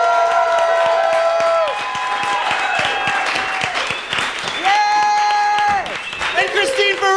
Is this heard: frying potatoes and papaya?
no